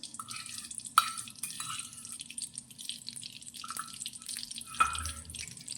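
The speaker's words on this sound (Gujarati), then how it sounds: "જે વાટકીમાં ઘી વધ્યું છે તે ઘી આપણે કઢાઈમાં લઈ લઈશું" Ghee trickles from a small bowl into a little kadai heating on a gas stove, heard as light dripping splashes in a few separate bursts over a quiet background.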